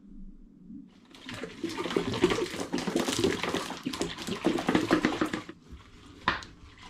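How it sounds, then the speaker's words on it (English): Water pours into a plastic home brew bucket while making an imperial stout, a steady splashing gush lasting several seconds that ends abruptly, followed by a few drips and a small knock. "I'm going to add a bit more water in there now."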